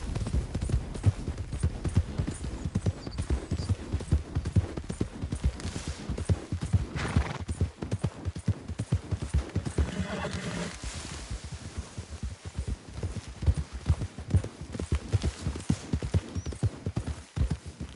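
Horse galloping in a PS4 video game, a fast continuous clip-clop of hooves with a neigh partway through, under brief spoken voice lines.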